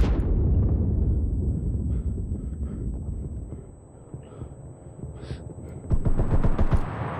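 Gunfire in the video game Enlisted: dense bursts of shots and booms crowd the opening seconds, thin out into scattered reports, then swell again into a loud rapid flurry near the end.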